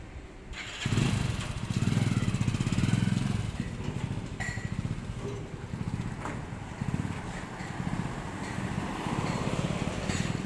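A motorcycle towing a bike trailer on a test run putters nearby, its engine revving up and then holding a steady, buzzing drone.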